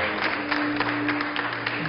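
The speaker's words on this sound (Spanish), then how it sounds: "hay una señora que aplaude" A lone woman in a television studio audience claps in a steady, quick rhythm, the light claps sitting over a constant low hum.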